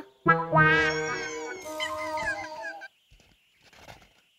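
A calm cat meows in a long, rising and falling call, close and fairly loud, followed by a short quieter sound, with no talk over it.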